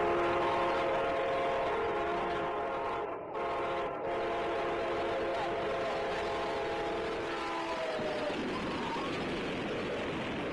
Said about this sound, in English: The Amtrak train was going about 72 miles per hour when it struck her vehicle.